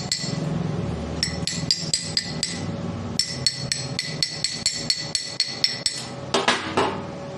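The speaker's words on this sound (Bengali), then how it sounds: "এটারও কার্বন ছুটিয়ে দিই।" A hammer chips welding slag off a tubular steel railing, with a quick series of sharp metallic taps and clinks in uneven bursts, ringing brightly at close range.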